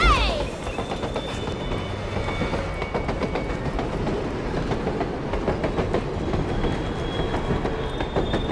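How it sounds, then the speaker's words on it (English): In the Borderlands 2 video game, a payroll train rumbles along with rhythmic clickety-clack wheel beats and faint squealing, steady and fairly close throughout, while voices talk over it. "Payroll train dispatched."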